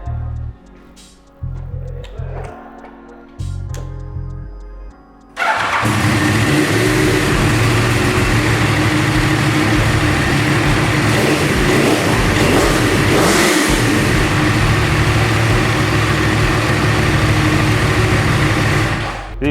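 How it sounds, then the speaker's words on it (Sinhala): A Yamaha R1 superbike in a Sri Lankan superbike showroom starts with a few short bursts, then holds a loud, close, continuous roar of revving for about fourteen seconds. "අපි මේ අන්තිමට මේ R1 එකේ සවුන්ඩ් එක පොඩ්ඩක් අහලා බලමු"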